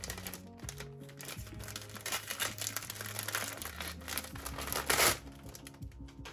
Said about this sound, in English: Let me take this off camera, because I rip things horribly.